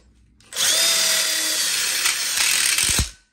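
A power drill drives a screw into a ConnecTubes coupler on an outdoor kitchen corner module, one steady loud whirring burst of about three seconds ending in a few clicks as the screw seats.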